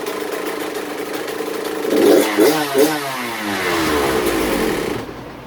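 A Kawasaki KX two-stroke dirt bike runs after a top-end rebuild with a new piston, close and loud. It idles steadily, gives a few quick revs, then settles back.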